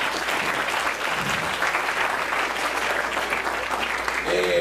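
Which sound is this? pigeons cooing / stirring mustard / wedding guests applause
wedding guests applause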